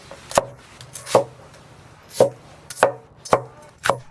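Garlic chopped on a wooden board in a country kitchen, six sharp, close knife strikes at an uneven, unhurried pace, with no talking.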